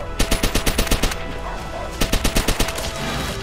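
Rapid automatic gunfire from the World War II shooter game Call of Duty: World at War, two tight bursts of about ten evenly spaced loud cracks each, separated by a brief pause, with no talking.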